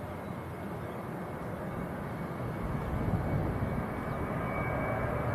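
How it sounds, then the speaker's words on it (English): A Jet2 airliner begins its takeoff roll at Manchester Airport, its engines giving a broad, steady roar that swells slightly as it gathers speed, heard from some distance with no talking. "Jet2 rolling now."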